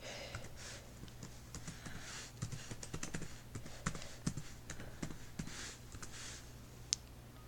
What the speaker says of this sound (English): I'm gonna type in my password here